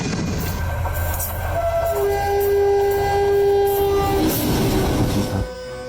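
A train horn sounds in long sustained blasts over the rumble and clatter of a moving train, loud and close, the horn held for several seconds as the cars roll past a cow standing on the tracks.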